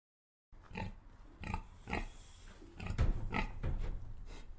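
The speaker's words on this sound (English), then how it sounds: "wild pig, nguluwe" A wild pig grunts in a series of short, rough bursts at an irregular pace, fairly close and moderately loud, with no other sounds around it.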